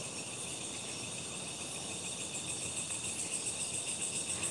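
Crickets chirp steadily through a forest at night, a dense, continuous high trill at moderate loudness with no voices.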